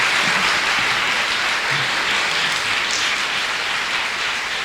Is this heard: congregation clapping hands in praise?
yes